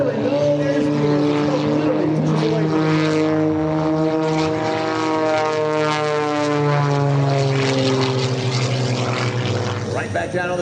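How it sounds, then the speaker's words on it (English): Propeller aerobatic plane at an air show performing snap maneuvers, its engine note loud and sweeping up and down in pitch as it climbs and rolls, with an announcer talking over it. "He comes across the top, snaps the aircraft on the vertical upline again."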